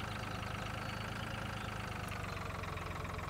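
A tractor engine idles steadily in the video game Farming Simulator 2013, an even, continuous mid-pitched mechanical drone with a regular low pulse, close and unchanging throughout.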